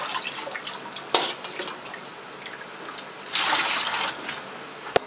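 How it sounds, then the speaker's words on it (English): Water is added to majolica glaze in a bucket and stirred, giving splashy, sloshing wash sounds with a louder gush partway through and a sharp knock at the end, with no voices. "Stir it and add more water."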